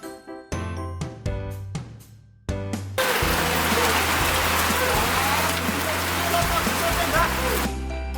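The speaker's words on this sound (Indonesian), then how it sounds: "hujan turun di tengah-tengah produksi ini" Steady rain pours down during outdoor production of mie letek noodles, a dense continuous hiss beginning after a few seconds of sharp knocks and clatter, loud and close, with no voices.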